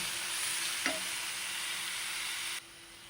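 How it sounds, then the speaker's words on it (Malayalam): Ginger, garlic, onion and green chili sautéing in a pan, a soft steady sizzle heard close up with one brief stirring scrape partway through, before the sound suddenly drops lower near the end. "ഇനി നമ്മൾക്ക് ഇതെല്ലാം നന്നായി ഒന്ന് വഴറ്റിയെടുക്കാം"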